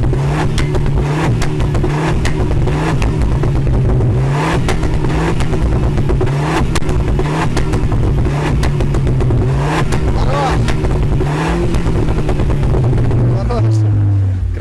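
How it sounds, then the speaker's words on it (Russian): Tuned 2012 car with a 1.6 engine, stage one, around 200 hp, revving its exhaust at a cold car meet in Simferopol: a loud, sustained engine roar with rising and falling revs, voices talking over it. "Так, в целом, выхлоп, не выхлоп. Выхлоп хороший?"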